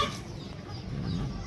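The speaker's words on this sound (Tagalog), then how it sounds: "Nag-aaway doon ng manok guys" Chickens squabble on a goat farm, giving off steady clucking and agitated fowl calls at a moderate distance over a continuous background of farmyard noise.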